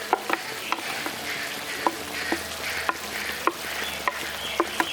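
Fried okra is stirred into bubbling curry gravy in a pan, with a soft sizzle underneath and sharp scrapes and clicks of the spoon recurring every half second or so, close and alone.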